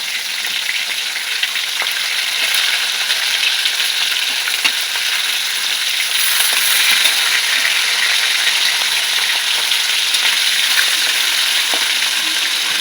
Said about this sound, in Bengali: মাছগুলো আমি হালকা করে ভেজে নেব বেশি কড়া করে ভাজবো না